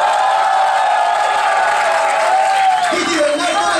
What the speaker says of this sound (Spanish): Aplausos para Titi Bernal.